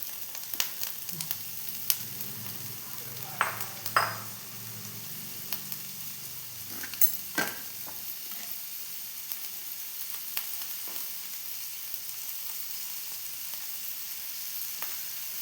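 Onion and capsicum with a little salt sauté in a pan with a soft, continuous sizzle and scattered clicks and scrapes of stirring. The stirring is busier in the first half and then settles into a quieter, steady frying hiss.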